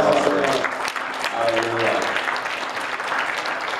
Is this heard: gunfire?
no